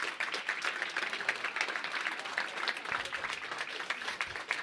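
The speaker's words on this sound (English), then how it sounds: "round of applause for you guys for even getting here" A crowd applauds steadily, dense clapping sustained throughout at a moderate distance, with no one speaking over it.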